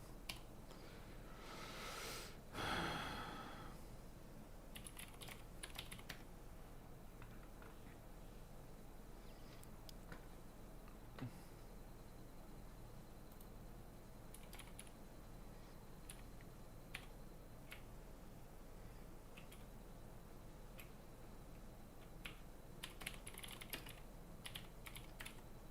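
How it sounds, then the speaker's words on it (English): A cat treads on a computer keyboard in a quiet room, giving a few scattered soft key presses and clicks with a brief louder rustle near the start. "Mia, pressing the wrong keys"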